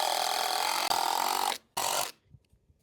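A power tool drives screws into the slats of a simple outdoor bench in two loud, buzzing bursts, the first longer with a brief hitch and the second short, then a few faint knocks. No one speaks.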